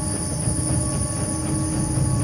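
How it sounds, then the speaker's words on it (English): A steady, loud rolling rumble of a train full of people in the game INSIDE, with a thin high whine and faint wheel squeal running over it continuously, no voices. "There's a train full of people."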